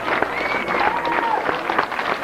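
Audience applause at a trained bear show in a ring, a steady wash of clapping from a crowd that runs the whole time, with a faint voice and a whistle-like tone gliding through it.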